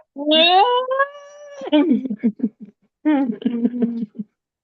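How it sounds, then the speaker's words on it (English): A pet cat gives a long, drawn-out meow with rising pitch, then a series of short chirping mews, then another meow and more quick chirps, close and clear with no talk over it. "They got a kitty too."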